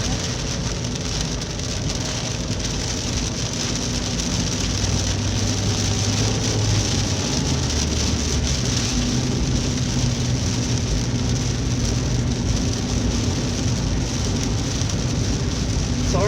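Rain pelts a car driving through a storm, a loud, constant hiss and patter on the roof and windshield over a low road rumble, with no voices.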